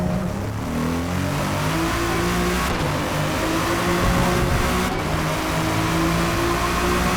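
Race car engine in Forza Motorsport revving steadily throughout, with continuous harmonic whine rising and falling as the throttle is worked, loud and close with no talking.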